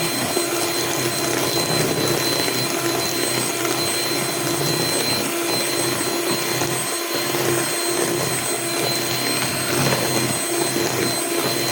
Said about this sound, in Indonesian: Kurang lebih di mixer kurang lebih setengah jam ya